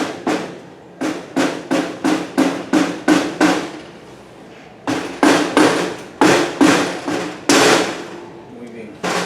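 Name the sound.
rubber mallet tapping on engine clutch cover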